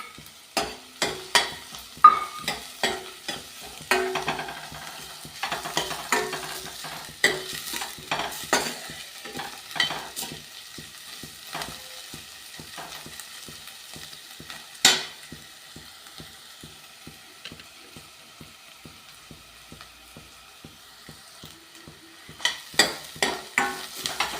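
Garlic, ginger and onion frying in a pan for soya chunk curry, close crackling sizzle broken by frequent scraping and stirring strokes of a spatula against the pan, with quieter stretches between bursts.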